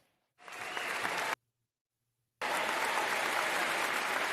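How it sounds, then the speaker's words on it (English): Applause from a sports podcast audience, a dense, steady wash of clapping that starts abruptly, cuts to silence for about a second, then resumes just as loud. "let's go ahead and give a round of applause"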